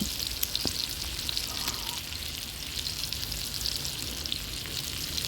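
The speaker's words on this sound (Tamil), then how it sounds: "ஒரு தவா வச்சு எண்ணெய் ஊற்றி இந்த சாப்ஸ் எல்லாம் அதில் போட்டுக்கலாம்" Mutton chops fry in oil on a tawa with curry leaves: an even, crackling sizzle holds close and steady throughout, with a few sharper pops and no voices.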